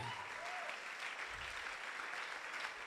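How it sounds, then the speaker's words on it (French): A church congregation clapping for the Holy Spirit, a steady, dense wash of applause from many hands filling the room, with faint voices mixed in. "clap for the Holy Spirit"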